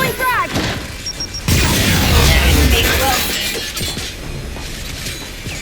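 A frag grenade goes off in Gears of War 5 with a sudden heavy boom and a crunch of debris, which then fades into a lingering rumble while voices shout over the combat.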